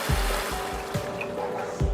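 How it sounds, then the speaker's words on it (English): Water is poured into a paneer curry masala in a pan, a soft quiet trickle with a few low splashy thuds repeating roughly every second, faint and with no talk. "To this I am adding some water."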